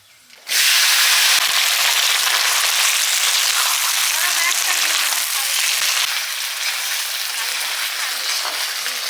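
Taro and potatoes frying in a pan give a loud, dense hiss that bursts in abruptly and holds steady for the rest of the clip, easing off slightly near the end.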